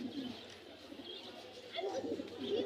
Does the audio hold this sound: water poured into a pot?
no